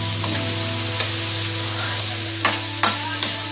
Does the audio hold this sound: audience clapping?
no